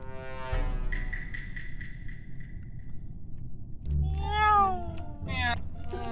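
A cat meows several times nearby, drawn-out and whiny, over a low rumble; a person speaks briefly between the calls.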